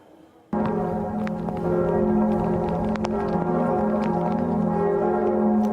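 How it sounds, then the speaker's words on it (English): Church bells of Notre Dame Cathedral in Paris ring in mourning, beginning abruptly after a quiet moment and sustaining rich overlapping resonant strikes with lingering hum. "In Paris, the bells of the famous Notre Dame Cathedral were rung in memory of the dead."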